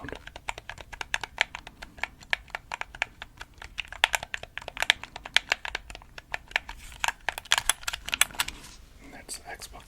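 Plastic buttons on an Xbox 360 controller click rapidly and close up, a dense stream of small sharp taps that thins out near the end, with soft whispering underneath.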